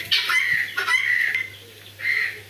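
Tithi chickens on a farm cluck in short, bright bursts, a few close calls separated by brief pauses against a low steady hum.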